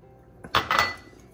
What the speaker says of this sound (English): And we'll just keep stirring